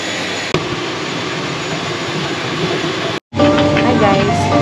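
An airplane engine roars as a loud, steady drone at an airport, with a short break near the end before the noise resumes.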